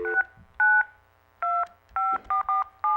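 A telephone number punched out on a keypad, giving a series of short dual-tone DTMF beeps, some spaced apart and others in quick succession, clear and close with no talking.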